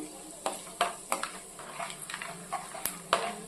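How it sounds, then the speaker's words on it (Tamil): Soft sizzling of spices in hot oil for a chicken curry, with intermittent stirring clicks and scrapes of a spoon against the pan. "இதை சேர்த்து நல்லா எண்ணெயில் பொரிய விட்டுருவோம்."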